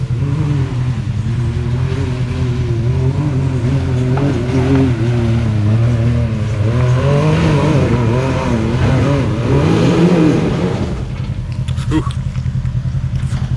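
An off-road buggy with a locker climbs a difficult rock trail, its engine revving in loud, rising and falling bursts for about ten seconds while tires spin, then cutting off near the end; people talk over it.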